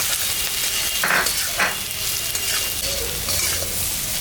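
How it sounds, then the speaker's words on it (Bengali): Potatoes and onions fry in a pan with a loud, steady sizzle close up, broken by a few scraping stirs of a spoon. "আলু পেঁয়াজটা ভাজা ভাজা হয়ে গেছে"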